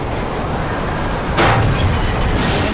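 Loud, steady rumble of a subway train in the Spider-Man 3 video game, with a sudden burst or impact partway through adding a harsher wash of noise over the continuous roar.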